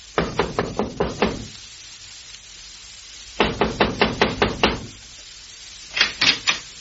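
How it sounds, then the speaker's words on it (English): Knocking on the front door of a home in early evening comes in three bursts of rapid, distinct raps, each group of about five to six knocks, separated by short silences. "we find him knocking on the front door of Squire's home"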